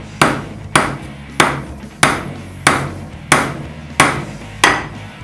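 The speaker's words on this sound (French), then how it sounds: "Et je vais clouer comme ça, sans le savon." A hammer drives a nail into wood with no soap on it, striking eight evenly spaced, sharp, close blows.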